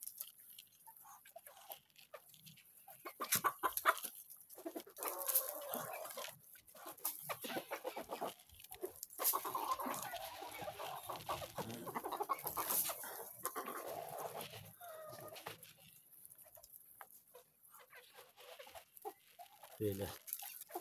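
Chickens let out into the yard cluck in scattered, fairly faint bursts, with other farmyard bird sounds around them.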